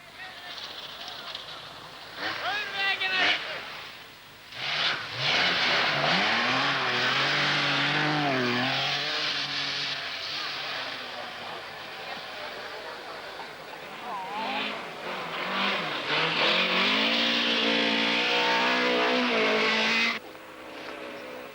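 A Porsche and a front-wheel-drive Lancia rally car take snowy corners at a 1970 Swedish rally. Loud engines rev and whine as they approach and pass close by, rising and falling in pitch, with someone narrating over them.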